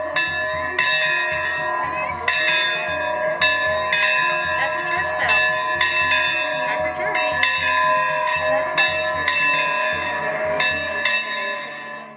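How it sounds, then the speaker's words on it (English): A large bell rings repeatedly in slow, resonant strokes at Jamestown Settlement, each tone lingering and overlapping the next, loud and steady throughout. "What was the bell for?"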